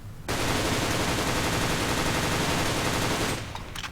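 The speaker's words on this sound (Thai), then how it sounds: "ต่อไปลองนั่งยิงกันบ้างนะฮะ แบบฟัวโต้นะฮะ" A Happy Snow airsoft gun by JK fires a long, continuous rapid burst, a dense rattling stream of shots heard up close and loud for about three seconds before stopping.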